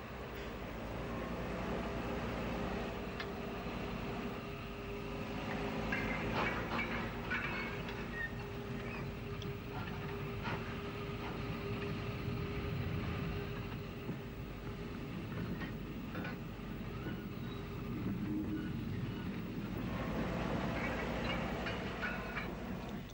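A GNR WT tank steam locomotive, nicknamed a jeep, works in the Adelaide shed sidings, clearing locomotive ash in Ulster: a steady, continuous mechanical rumble and clank with wheel and rail noise, fairly loud and unbroken throughout.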